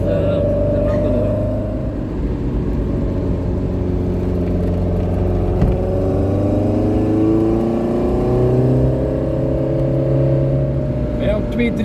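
A 1970s Alpine A110 with a 122 HP engine fed by four carburettors drives along, its engine droning and rising through revs from inside the car, steady and close throughout.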